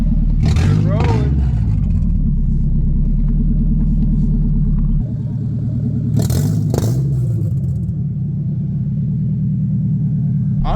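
A Nissan 300ZX with a swapped-in KA24DE engine rolls off on its first test drive, with a loud steady low engine rumble throughout and brief clatters. A person talks over it.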